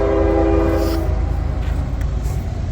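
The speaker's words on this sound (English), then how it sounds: "All right, second train of the day." A BNSF-led freight train sounds a loud, steady horn for about a second, then its rumble and wheel noise roll on close by with a faint second horn note near the end.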